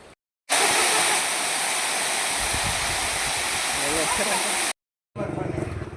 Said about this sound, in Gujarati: ઝરણું મસ્ત વહે છે